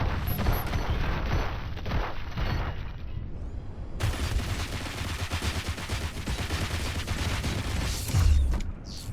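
Gunfire in RoboCop: Rogue City, rapid bursts of shots alongside mechanical creaks and ratcheting clanks that run steadily for several seconds, loud and busy, with a heavy thump near the end.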